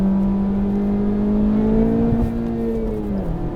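A Honda Civic Type R engine with 306 horsepower revs hard on a smooth, winding road, its steady climbing tone holding near the rev limiter before easing off, loud and close inside the cabin.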